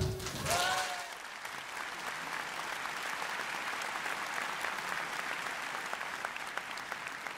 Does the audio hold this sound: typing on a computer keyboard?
no